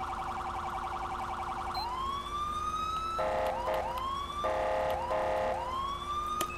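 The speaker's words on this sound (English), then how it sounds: "this is my siren" An electronic police car siren in a video game, GTA V, wails alone, steady high tones interrupted by repeated rising whoops and yelps, loud and synthetic-sounding.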